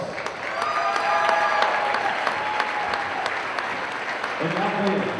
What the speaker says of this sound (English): please join me in one more big round of applause for our seniors